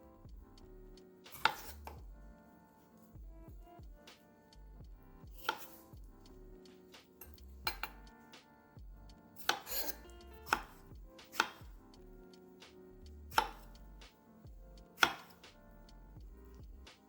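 Strawberries are chopped with a knife on a cutting board in a steady run of crisp, near taps, with a few louder thunks standing out, and no voices.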